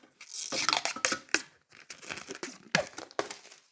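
Protective blue film being peeled from the corner of a nail lamp's mirrored reflector, giving close, quiet crinkling and tearing rustles in short irregular bursts.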